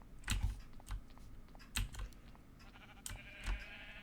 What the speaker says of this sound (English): Hi, sheep.